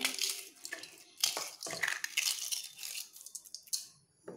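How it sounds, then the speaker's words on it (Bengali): Crisp phuchka (puri) shells are broken by hand in a series of sharp, close crunches and brittle cracks, the bursts irregular and loud, with no voice over them. "ফুচকাগুলো ভেঙে দিলাম। ফুচকা বানিয়ে নিয়েছি,"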